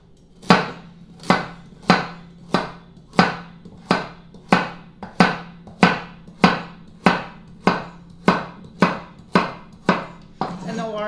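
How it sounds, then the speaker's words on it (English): Vegetables being chopped on a cutting board for chicken and rice soup: about fifteen crisp, evenly spaced knife strikes at a steady rhythm, close and loud with no talking. "So we're going to chop everything up."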